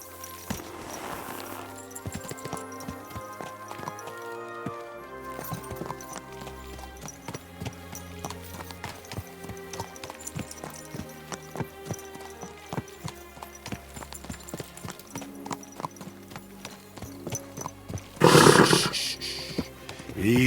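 Horse hooves in the video game Kingdom Come: Deliverance II clip-clop at a steady walking pace beneath ongoing music, with a louder burst of sound near the end.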